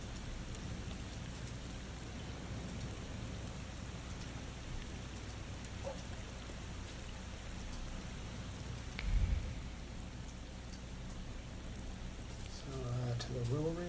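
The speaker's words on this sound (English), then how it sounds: "it's raining now" Rain in the video game The Thaumaturge, a soft, steady hiss of falling drops running throughout, with a brief low thud partway through and a faint voice near the end.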